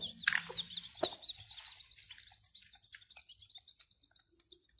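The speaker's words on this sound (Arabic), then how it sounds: "الفراخ الهندي، الفراخ البلدي هاديين على الفراخ الهندي" Turkeys and farmyard chickens kept together, clucking and chirping in a busy cluster of calls that is loudest at the start and thins into softer scattered peeps, fairly close and with no talk.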